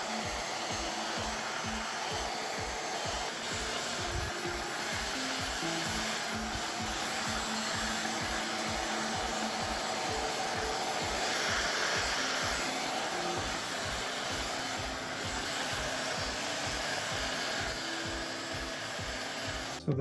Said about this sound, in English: we can use a heat gun and get it to shrink and compress the repair